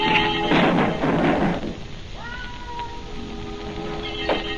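A cat meows in a 1940 film, a short rising cry heard after a muffled clatter and burst of noise. The meow is fairly close and stands over a quiet, slightly hissy old soundtrack.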